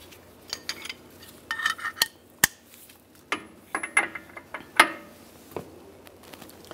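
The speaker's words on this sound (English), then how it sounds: "we're gonna loosen the nut half a turn" Metallic clanks, clicks and ratcheting scrapes from a pry bar loosening the front hub nut on a 1998-2010 Volkswagen Beetle during wheel bearing replacement, sharp irregular hits up close with no talk.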